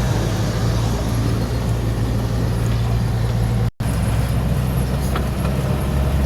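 Steady road traffic on EDSA between Cubao and Balintawak toward Muñoz, a continuous low rumble of cars and buses heard close by, with a brief dropout partway through and no talk.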